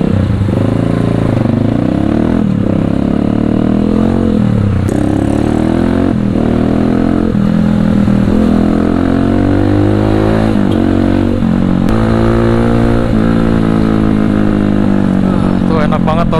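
A Viar Cross-X 200 SE motorcycle with upside-down front suspension rides along, its engine droning loud and close with repeated revs and gear-change rises and falls throughout, wind buffeting over it.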